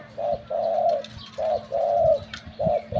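A spotted dove coos nearby in a repeated, deep rhythmic pattern of low hooting notes with brief pauses between phrases.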